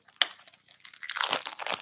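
Sealed Fleer trading card pack wrapper being torn open, a sharp crinkle followed by close, dry crackling and tearing of the foil-like wrapper.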